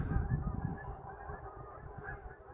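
Geese honk in a flock outdoors on a wet trail at night, repeated nasal calls overlapping at a moderate distance, fairly faint and continuous.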